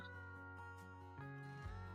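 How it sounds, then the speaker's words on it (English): An upset cat lets out a quiet, drawn-out meow with a wavering pitch, heard faintly and alone. "Kitty's upset? No!"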